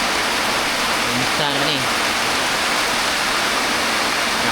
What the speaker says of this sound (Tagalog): Hawak sa kayong ulan